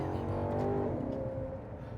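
A naturally aspirated 4.7-litre V8 in a Maserati Quattroporte revs steadily and loudly up close, its deep rumble swelling and then easing off across the two seconds with no talk over it.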